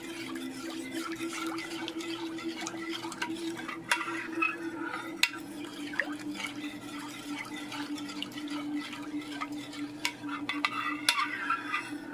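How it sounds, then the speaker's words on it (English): Gravy gets stirred in a pan, a quiet run of spoon scrapes and clinks over a low steady hum, with no one talking. "Stir it in."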